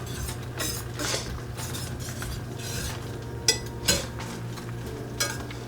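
A utensil stirring Dijon mustard into a creamy pan sauce for pork medallions, heard as soft, repeated scraping and clinking against the pan over a low steady hum, with a few sharper metallic taps.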